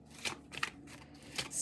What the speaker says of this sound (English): Some of these cards shuffle and shuffle